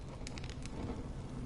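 Steady rain from the video game Honkai Star Rail, a soft, even hiss of falling drops heard close and continuous with no talk over it.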